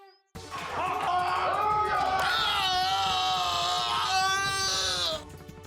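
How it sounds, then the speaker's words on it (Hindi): A loud, sustained dying scream of the demon Dhumraksha in a mythological battle scene, a drawn-out wailing cry with wavering pitch that lasts around five seconds before cutting off. "क्योंकि ये चीख धूम्रक्ष की ही थी"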